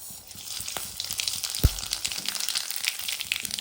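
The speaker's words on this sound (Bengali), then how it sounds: "1 চামচ কালো জিরে দিয়ে দিচ্ছি তেলে" Nigella seeds and halved dried red chillies hit hot oil, giving a soft, crackling sizzle with scattered small pops and one low thump partway through, with no voices.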